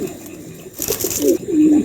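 Pigeons coo softly in short throaty phrases, close by, against a quiet background hum.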